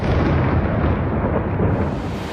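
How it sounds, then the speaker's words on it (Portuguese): An explosion in Kyiv near the main train station, captured before sunrise in news footage: a sustained, loud, broadband rumble with a heavy low roar that fills the whole stretch without a break, no voices present. "Imagens obtidas pela agência de notícias Reuters mostraram uma explosão antes"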